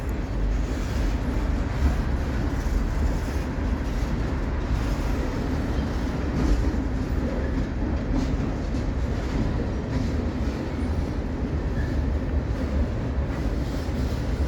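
Wheeling & Lake Erie train 617, led by EMD locomotives in Notch 8, rumbles steadily over jointed rail, a continuous loud roar with faint wheel clatter throughout and no voices.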